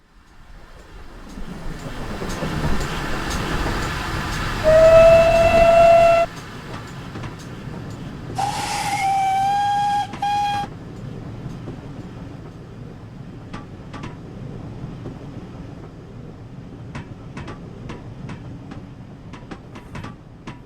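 A GWR Armstrong class steam locomotive in Train Simulator runs with a steady rolling rumble and rhythmic wheel clicks, broken by two long whistle blasts, one low and one higher.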